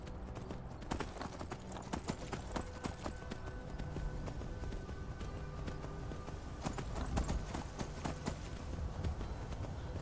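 Horse hooves clip-clop steadily in Skyrim as a mount is ridden, a continuous rhythmic stream of hoofbeats with no talking over it.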